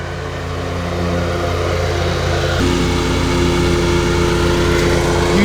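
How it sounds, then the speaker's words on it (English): A ride-on lawn mower cutting grass gives a loud, steady engine drone that deepens and grows heavier partway through as the load shifts, running without pause close by. "We even have a weight kit in the back of the mower to prevent it from kicking up like that as well"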